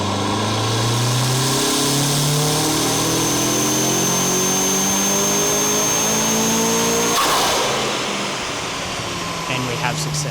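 A turbocharged Mitsubishi 4G63 engine with a wastegate boost controller revs hard under roughly 22–23 psi of boost. The loud, sustained climbing drone builds steadily, then cuts off sharply near the end with a crack, and the engine settles to a lower, fading note.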